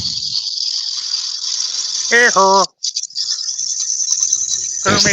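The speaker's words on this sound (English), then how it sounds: "I'm turning this all wrong because this is side grain and I'm actually going downhill on it and I shouldn't be" Side-grain wood spinning on a lathe makes a constant high-pitched whine that runs almost throughout, briefly interrupted midway, while a person speaks a short exclamation over it.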